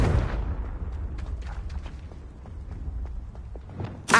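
The Confringo spell in Hogwarts Legacy bursts with a blast at the start, and a fainter crackling tail and scattered pops follow. A second sharp burst hits at the very end.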